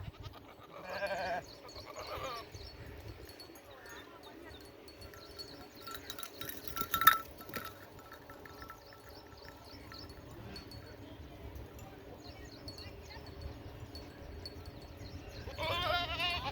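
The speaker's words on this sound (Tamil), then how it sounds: "இதுதான் அவங்களது ஆடு." Goats bleat in short wavering calls at a distance, a few scattered cries near the start and another near the end, over a quiet outdoor background with faint insects.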